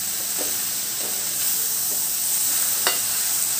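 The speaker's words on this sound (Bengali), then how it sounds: "এইভাবে সব মশলাটা মিশিয়ে" Spices are stirred through ridge gourd and prawns in a pan over low heat, giving a steady sizzling hiss with a few soft scrapes of the spoon, close and alone.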